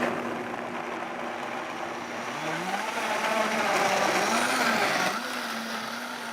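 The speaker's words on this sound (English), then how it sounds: "I am going to turn my Vitamix on and slowly ramp it up to high speed." A Vitamix blender whirs continuously, its motor pitch climbing in steps as it ramps up to a loud, steady high-speed roar.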